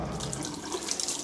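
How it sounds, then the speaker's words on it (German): Water runs from an outdoor garden tap on a cool autumn morning, a steady splashing gush, fairly close and unbroken, with no voices. "So, gut, dass das Wasser noch nicht abgeschaltet ist."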